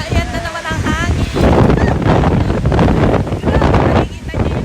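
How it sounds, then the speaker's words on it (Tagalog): Strong gusts of dusty spring wind at the Yono Park Rose Festival in 2026 buffet the microphone in a loud, continuous roar, with a person talking over it. "Ayan na naman ang hangin!"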